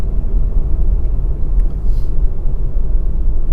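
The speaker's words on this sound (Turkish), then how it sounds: "bir 2000 devire getireyim aracı bakalım 2000 devirde tam kaç yapıyor. 5. viteste." Peugeot 307 petrol engine held at 2000 rpm in fifth gear while driving, a steady low rumbling drone with road noise, continuous and fairly loud inside the cabin.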